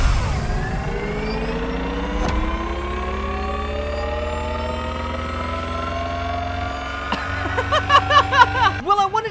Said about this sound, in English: this is what it sounds like with the Supercar engine kit.